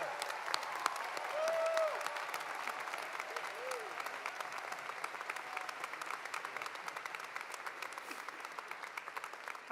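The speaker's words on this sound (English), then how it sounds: "can we applaud the class of 2023 one more time?" Sustained applause from a large audience at a university commencement ceremony, steady and moderately loud with a few faint whoops.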